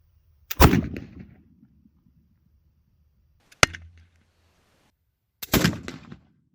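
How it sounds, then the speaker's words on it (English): Three sharp, loud cracks spaced a couple of seconds apart: a .50 caliber flintlock pistol fired into ballistic gel, the first and last with a longer rough burst and the middle one a crisp snap with a short low tail. "there's a shoulder bone back here also that I'm going to be shooting to see if you'd be able to move your arm or do anything with it after being hit with a .50 cal"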